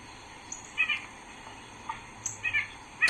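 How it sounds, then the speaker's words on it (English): A white-breasted nuthatch gives repeated short, nasal calls in small bursts, faint and distant over a constant hiss of background noise. "I've heard this bird, the white-breasted nutcracker"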